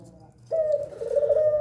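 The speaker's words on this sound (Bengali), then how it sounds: "ঘুঘু পাখি আমার এই চুইটাল ঘুঘু পাখি" An Australian chuital dove gives a steady, sustained low coo that starts abruptly partway through and continues loud and close until the end, with no talking.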